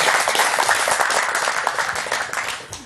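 Audience applause at a live sports talk show, sustained dense clapping that tapers off slightly toward the end.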